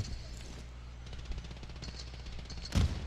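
Gunfire in a shooter video game, a rapid stream of automatic shots at moderate distance, fairly quiet, ending in a louder close impact.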